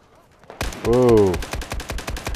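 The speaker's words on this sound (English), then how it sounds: "I guess he's too far away for me to hit with this gun." Gunfire rings out in the video game Battlefield 4 as a run of sharp, evenly spaced shots follows a brief loud burst, and a voice speaks over the start.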